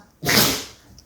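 A woman sneezes once, a single sharp close burst that fades quickly, with no talk around it.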